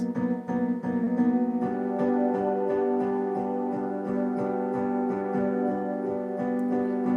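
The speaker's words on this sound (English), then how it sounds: "piano chord that's being held or like hit over and over" A single piano chord is struck again and again in an even rhythm, each hit ringing into the next. The level stays steady throughout, close and clear with no voices.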